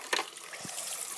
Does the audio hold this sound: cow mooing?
no